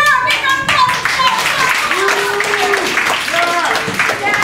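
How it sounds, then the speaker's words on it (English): Audience at a circus show claps in a loose burst of hand claps, fairly close, mixed with crowd noise and a voice speaking over it. "applause!"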